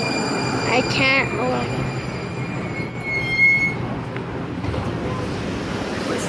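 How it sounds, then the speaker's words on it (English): A train pulls into a station with a loud rushing rumble and high squealing wheels, while people talk excitedly over it before the noise eases. "The train's here."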